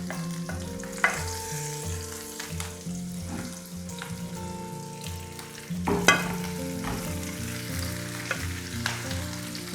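Ginger, garlic, green chilies and curry leaves sizzle in hot oil in a pan for a Sri Lankan tuna dry fish curry, with scattered scraping stir strokes and crackling bursts close up.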